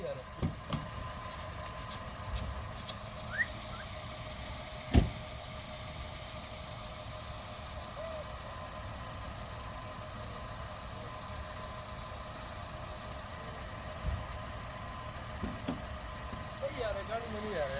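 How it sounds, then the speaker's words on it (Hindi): A car passes along a roadside near homes where monkeys roam, its mid-pitched engine a steady drone under scattered voices, with a few short knocks and clatters. "एक मिनट गाड़ी जा रही है यार।"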